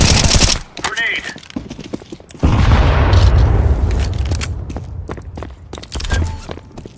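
Grenade explosion in a tactical shooter video game, a loud deep boom with a long rumbling tail, set among scattered gunshots and footsteps.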